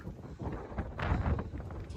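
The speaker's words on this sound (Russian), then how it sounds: "Сегодня невероятно ветрено." Strong, gusty wind buffets the microphone on the slopes of Ifach mountain, a broad low rumble that swells and surges for a moment before easing, steady and close throughout.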